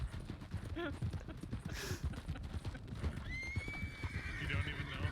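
Hooves clip-clop steadily while a horse whinnies, a rising, drawn-out neigh near the middle, against a busy background, in a video game.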